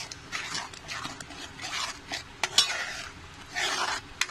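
A spoon stirs a thick paneer lababdar gravy with chicken masala in a pan, scraping and sloshing in uneven close strokes over a faint sizzle.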